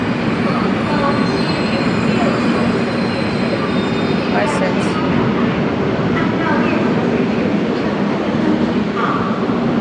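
A train rumbles loudly and continuously close by, with wheels squealing on the rails and brief speech underneath.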